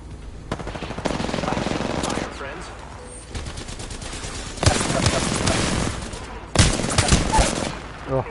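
Rapid gunfire from the video game Apex Legends, bursts of automatic shots in dense clusters with brief pauses between, loud and close, mixed with game sound effects.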